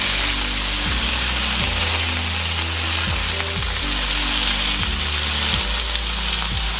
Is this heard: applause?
no